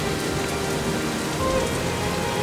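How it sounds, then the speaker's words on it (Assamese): Heavy rain pours down in a dense, unbroken hiss of drops striking surfaces, steady and close throughout with no voices. "যেতিয়াই ডাঙৰ বৰষুণ আহে"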